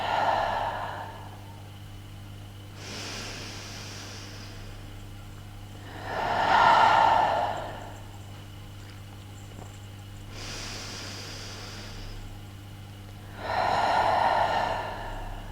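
Slow, deep breathing during a guided breathing exercise. Long inhales and exhales alternate, two or three of them clearly loud and close, with soft gaps and a steady low hum underneath.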